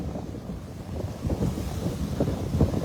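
Storm surf breaks on a beach under tropical-storm-force gusts, with a low, continuous rumble of waves and heavy wind buffeting the microphone. Swells rise and fall over the few seconds, and no one speaks.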